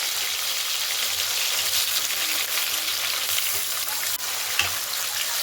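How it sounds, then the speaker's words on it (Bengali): Chopped tomatoes fry in hot oil spiced with whole cardamom and cinnamon, a loud, steady, close sizzle running throughout with a faint stir or scrape near the end. "এবার আগে থেকে কেটে রাখা টমেটো কুচো দিয়ে ভালো করে ভেজে নেব।"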